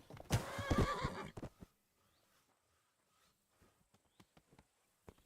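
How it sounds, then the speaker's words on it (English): A horse in Kingdom Come: Deliverance 2 gives one loud, close whinny with rising and falling harmonics, followed by a few faint, scattered hoof clops and soft taps. "Let's get on our horsey horse."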